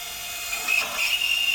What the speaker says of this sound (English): let's try to drill into a sheet metal.